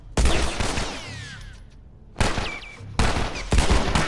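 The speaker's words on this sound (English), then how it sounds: "I think I just shot someone." Loud close bursts of gunfire in the video game The Last of Us, three sharp blasts separated by brief gaps, each trailing into a fading echo.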